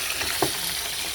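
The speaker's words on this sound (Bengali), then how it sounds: "জিরে তেজপাতা ফোড়ন দিয়ে আলুটা দিয়ে দেবো। দিয়ে দিচ্ছি, তেলটা বেশি গরম হয়ে গেছে" Potatoes frying in very hot oil seasoned with cumin and bay leaf give a steady close sizzle, with one brief louder burst partway through, and no talking.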